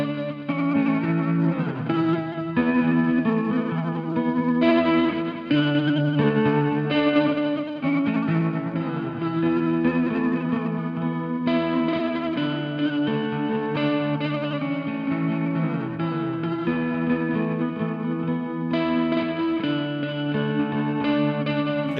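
Electric guitar played through a Pladask Elektrisk Baklengs pedal set fully wet, a dense, continuous wash of chords with warbling, chorus-like movement and a distorted, smeared texture, steady and loud throughout.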